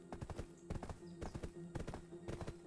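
Wild horses gallop in the video game Black Desert Online, a steady run of hoofbeats in clustered clip-clop bursts, fairly close and loud, with a faint voice underneath.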